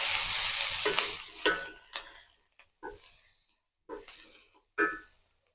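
Onions in a pan sizzle steadily at first, then a spoon stirs them in a few separate scraping bursts with quiet gaps between, close by.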